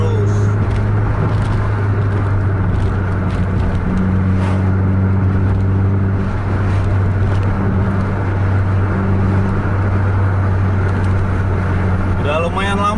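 A bus engine on the road holds a loud, steady low drone close by, its pitch staying fairly even as it keeps accelerating over the whole stretch.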